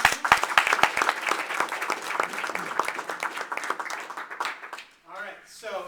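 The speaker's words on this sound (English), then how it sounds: "round of applause for Tom" A live audience gives a speaker a round of applause at a talk: dense, steady clapping from many hands for about five seconds, then fading into a brief voice at the end.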